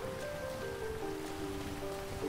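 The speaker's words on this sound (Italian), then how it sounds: "sta iniziando a piovere, ragazzi" Rain begins falling in the video game GTA V, a steady hiss of drops on surfaces that runs throughout, with sustained tones from the game's soundtrack over it.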